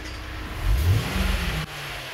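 A car engine with direct injection, undergoing an intake carbon cleaning, blips its throttle: a low engine note rises into a brief rev, holds roughly a second, then drops abruptly back to a steady idle.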